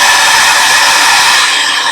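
Loud, steady whooshing roar of a hot air blower drying a stamped card, running continuously up close.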